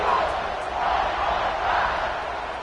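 A stadium crowd at a college football game roars just before a kickoff, a broad, steady wash of cheering with swells, heard from a distance under faint commentary.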